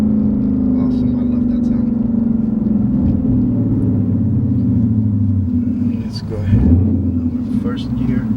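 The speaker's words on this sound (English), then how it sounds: "Let me go ahead and do a downshift so you guys can hear the rev match." A 2019 Ford Mustang GT Premium with a six-speed manual gives a steady, deep exhaust rumble at close range, then a short rev blip as it downshifts with rev matching near the end.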